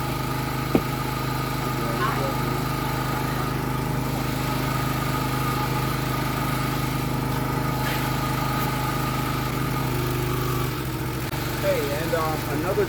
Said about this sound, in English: reduce the power of the engine so it's not sucking so hard